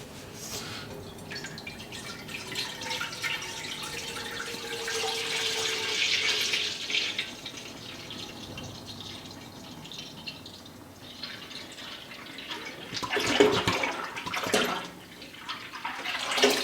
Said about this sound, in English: I'm gonna add my gallon of milk.